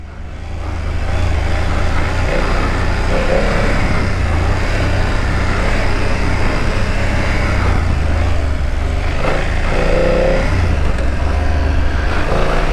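A 2024 BMW F900GS Trophy motorcycle being ridden makes a continuous, close engine drone mixed with rushing wind. Its loud, even roar holds steady with slight rises in pitch, and no one speaks.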